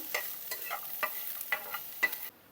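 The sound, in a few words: garlic frying in a pan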